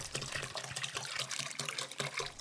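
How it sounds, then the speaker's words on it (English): Vinegar being poured into a plastic bag, a steady close trickle and splash of liquid with no talking. "Fill a plastic bag with vinegar."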